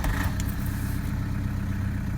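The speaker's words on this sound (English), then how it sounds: "First thing I'm going to do is get the engine started" Toyota 1KD-FTV diesel engine in a Prado or Hilux, heard in a cold start and then idling with a low, steady, rumbling chug and a few faint clicks early on.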